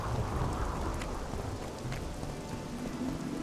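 In The Witcher 2: Assassins of Kings, heavy rain pours down steadily while thunder rolls through the dark, the storm rumbling low under the hiss of falling water, with no voices over it.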